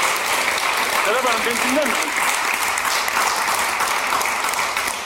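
Studio audience applause on a Turkish daytime TV show forms a steady wash of clapping across the whole moment, while someone speaks briefly over it.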